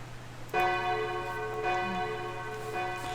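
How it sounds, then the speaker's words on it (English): A school bell in Kara no Shoujo strikes with a rich, ringing metallic tone over a low steady hum, sounding loud and near, with a second and third strike layering into a long sustained resonance. "A bell rings to announce the end of class."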